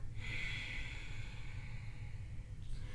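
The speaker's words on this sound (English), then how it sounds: "big breath in, full breath out" A long forceful breath out during a Manipura chakra breathing exercise, a close, steady airy rush lasting a few seconds before tailing off, with no talking.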